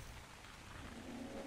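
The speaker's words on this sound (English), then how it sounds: "It's raining in a desert." Steady rain pours across a desert in the survival video game Ark, a constant hiss of drops that fills the scene from start to finish, with faint low rumbling beneath.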